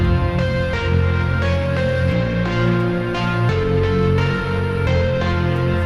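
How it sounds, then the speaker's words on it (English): A heavy synth reese bass under a distorted electric guitar in a dark drum and bass intro, loud and dense, with rhythmic hits cutting in every second or so. "what we're hearing here is a big reese and then this distorted guitar"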